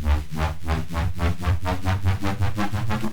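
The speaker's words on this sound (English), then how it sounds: "It's made from saw waves and white noise with some filtering" Dry synth patch made in Vital from saw waves and white noise, a loud, buzzy tone pulsing in a fast, even rhythm, with heavy low end and continuous throughout.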